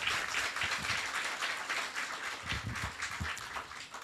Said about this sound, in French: demander aux jeunes qui ont décidé de choisir l'entrepreneuriat de s'applaudir très fort